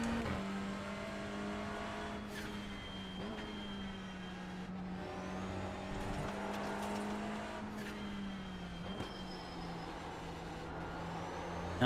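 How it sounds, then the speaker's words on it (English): A TCR race car in iRacing drones steadily at high revs, with brief chirps and whooshes from its blow-off valve at gear changes, loud and continuous throughout. "And of course it sounds fully riced out with the BOV."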